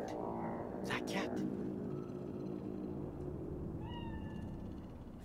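A cat meowing in the video game Cyberpunk 2077, giving a short rising meow late in the moment under a steady ambient city drone, with a voice speaking earlier.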